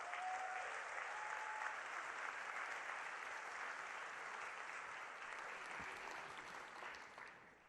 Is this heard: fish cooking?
no